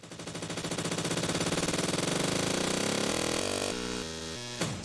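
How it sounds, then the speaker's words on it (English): A stepped, glitchy digital riser, its sample loop jumping between points, stutters as a rapid buzzing pulse through uneven pitch steps that grow choppier toward the end. Close, steady in level and alone, with no voices. "So sometimes you might end up with a steppy digital sound"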